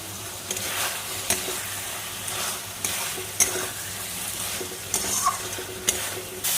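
Spices and potato pieces sauté in a pan for Bengali katla fish kalia: a steady, close sizzle with a spatula scraping and stirring at irregular intervals, and no talking.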